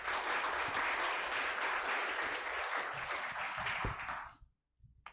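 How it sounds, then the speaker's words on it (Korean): An audience at an academic spring conference on sports law applauds a speaker's presentation with loud, even clapping from a seated crowd. It lasts about four seconds and then stops abruptly. "다시 한번 큰 박수로 1발제 청해 듣도록 하겠습니다."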